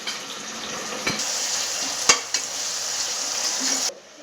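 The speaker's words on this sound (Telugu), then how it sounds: "ఆనియన్స్ కూడా వేసుకుంటున్నాను" Onions with tempering spices (fenugreek, cumin, mustard seeds) fry in hot oil, a steady close sizzle with a couple of sharp utensil clicks against the pan.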